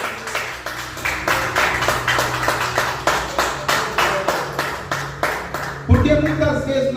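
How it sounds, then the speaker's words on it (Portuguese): A church congregation claps together in a steady, even rhythm, with loud and fairly close repeated beats alongside a low instrumental hum, before a burst of sound and a voice come in near the end. "Dê uma salva de palmas para o Senhor."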